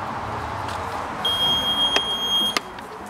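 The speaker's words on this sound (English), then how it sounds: "So this K2 meter's going off." A K2 meter beeps with a thin, steady electronic tone for about a second, cut by two sharp clicks, over a faint indoor background hum.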